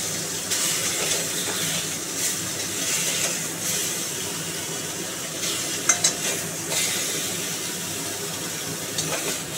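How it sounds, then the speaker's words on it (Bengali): Aar fish pieces frying in a pan give a continuous, fairly loud sizzle, broken by a few sharp clinks and scrapes of a utensil near the middle and again at the end. "মাছটা ভেজে নিয়েছি, ভাজা হয়ে গেছে।"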